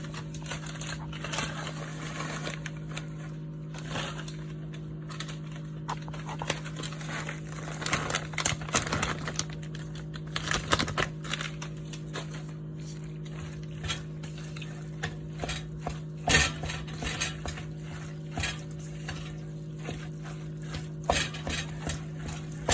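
Four-cheese macaroni and cheese is mixed in a pot, with soft sticky squelching and intermittent utensil scrapes and taps against the pot over a constant low background hum, close and moderately quiet.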